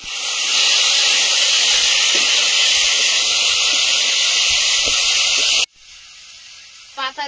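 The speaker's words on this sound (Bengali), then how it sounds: "এবার ডাটাটা দিয়ে দেবো।" Vegetable stems go into a pan with half-fried potatoes and cumin paste, raising a loud, steady hiss of sizzling that cuts off sharply near the end, leaving faint clatter.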